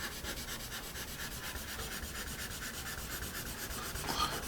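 Soft, even rubbing of a Dixon 2HB pencil moving across paper, a quiet, smooth, rhythmic scratch repeating in short strokes, close up with no talking.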